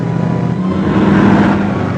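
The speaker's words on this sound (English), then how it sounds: "There's a car following us, Uncle Jim." A car engine roars wide open during a chase in a 1947 serial, a loud steady drone that swells slightly in pitch as it accelerates.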